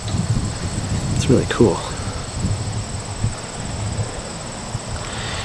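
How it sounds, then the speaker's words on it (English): Horses clip-clopping in a video game, a short run of hoof beats mid-clip over steady game ambience with faint insect-like chirring, while someone talks over it. "Beautiful horses here."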